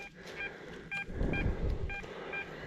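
A Deus metal detector gives a signal in a forest, a series of short repeated electronic beeps over faint background rustling.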